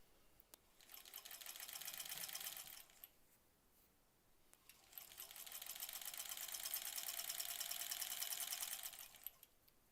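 A sewing machine stitches quilt blocks together in two steady, fast-running bursts separated by a short pause, close and fairly quiet, with no talking.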